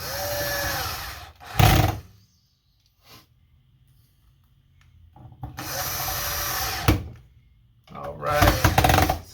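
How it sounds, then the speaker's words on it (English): A power screwdriver drives screws back into an Xbox Series S console, giving two loud whirring bursts near the start and a longer stretch later, with quiet gaps and low background between them. "So we're just going to go ahead and screw these back in."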